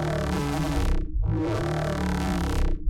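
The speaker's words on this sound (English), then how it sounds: "The sound which I made in serum first sounded like this." A distorted synth bass made in Serum wobbles under an LFO, playing two sustained, gritty phrases that each cut off sharply.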